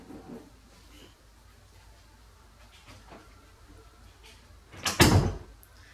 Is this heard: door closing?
yes